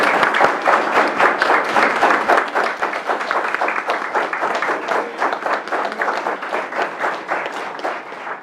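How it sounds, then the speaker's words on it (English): Applause for school principals at a board of education meeting, a room of steady, dense clapping that holds for about eight seconds and thins slightly toward the end, with no speech over it. "Let's give our principals a round of applause"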